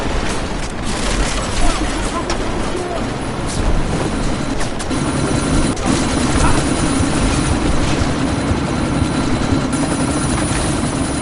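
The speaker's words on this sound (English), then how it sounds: "you need to disable that chopper" A helicopter in Deus Ex Mankind Divided churns with a steady loud rotor roar and engine drone through a sandstorm, close and continuous, with voices talking over it.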